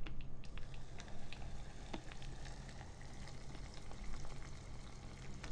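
Hot water poured into a cup of spicy Jjawang instant noodles, a soft continuous pouring and bubbling hiss with faint crackles, quiet and close with no voices.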